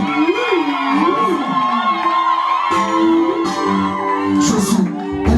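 An evangelical church congregation shouts and cheers for joy in a loud, sustained swell of voices, with musical tones running through the crowd noise.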